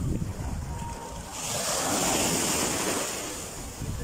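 Ocean waves roll in at Turtle Cove Beach, a broad rushing surge swelling in the middle and easing off, with gusty wind buffeting the microphone.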